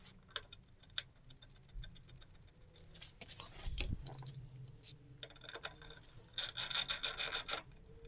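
Scrubbing rusty screw heads on a 1999 Suzuki GSX-R 600 barn-find motorcycle with a nylon pad and WD-40: quiet, uneven rasping and rubbing strokes with small ticks, building to a louder run of quick scrubs near the end.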